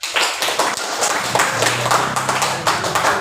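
Students in a classroom clap their hands together, loud and close, in a fast irregular patter of individual claps with some faint voices mixed underneath.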